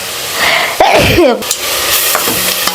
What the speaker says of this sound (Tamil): அந்த பூண்டு வெங்காயம்லாம் அப்படியே வதக்கும்